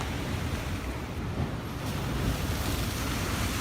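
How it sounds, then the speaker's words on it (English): Ocean surf rolling in, a continuous broad wash of breaking water with wind rumble, steady and fairly close, no voices. "Listen to the ocean."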